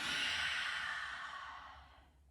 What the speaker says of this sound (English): Big deep breath. Big exhale.